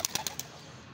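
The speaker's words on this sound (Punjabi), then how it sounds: "ਹੁਣ ਆਪਾਂ ਇਸ ਕਬੂਤਰ ਨੂੰ ਕਾਫੀ ਦੂਰੋਂ ਛੱਡਾਂਗੇ" A pigeon is released outdoors and flies off. A quick flurry of four soft wingbeats fades within a second into faint background hush.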